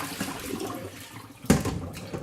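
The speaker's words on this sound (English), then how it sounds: "And you just drain this water out." Dirty, cloudy water from washing a mat drains out of a bowl into a sink, a soft gurgling flow with a sudden louder gush midway, heard alone without talk.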